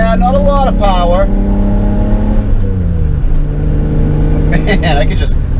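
The engine of a 1988 BMW iX, an early four-wheel-drive model, hums and drones steadily while driving, shifting pitch as it moves, under intermittent close speech from the driver.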